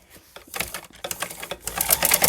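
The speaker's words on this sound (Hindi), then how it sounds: "अब हम इनके ऊपर डबल सिलाई लगाएंगे" A sewing machine runs a double line of stitching over fabric for a poncha (trouser cuff) design, in fast rattling bursts that start and stop, loud and close, with no talk.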